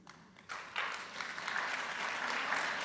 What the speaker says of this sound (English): You can applaud for that one.